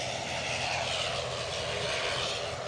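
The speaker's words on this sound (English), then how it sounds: "Delta is on the move, says HD8." Steady broadband engine roar from a Delta airliner beginning to taxi at Edinburgh airport in Scotland, a continuous, fairly loud drone with no voices, heard from a spotting position at some distance.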